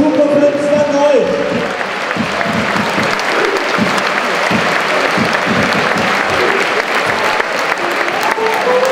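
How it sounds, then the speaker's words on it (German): Loud, sustained applause from a large football stadium crowd at a German 3. Liga match, steady clapping throughout with some cheering mixed in. "Riesen Dank, riesen Applaus"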